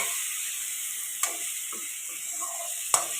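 A drumstick and tomato curry in a pan sizzles quietly under two sharp spoon clinks against the pan and a few soft scraping stirs, with no voices.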